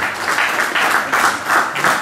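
Loud, close applause rises from a crowd honouring a cycling team's massage therapist, a continuous ripple of clapping pulsing slightly in waves.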